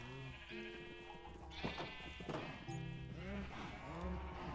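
Several Minecraft sheep bleat in overlapping, wavering cries, some near and some farther off, over a faint steady background.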